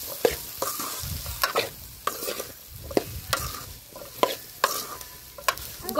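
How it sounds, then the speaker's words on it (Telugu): Raw banana pieces with salt and turmeric stirred in a pan, a spoon scraping and clacking in irregular strokes over a soft sizzle, close and alone without talk. "ఉప్పు పసుపు వేసిన తర్వాత కలుపుదామండి"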